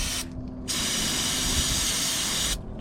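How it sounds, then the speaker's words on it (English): Brake cleaner sprayed from an aerosol can onto truck parts of a Detroit-engined Freightliner Classic, a short burst followed by a longer close hissing spray of about two seconds, with no speech. "Just gonna clean it off with brake cleaner again."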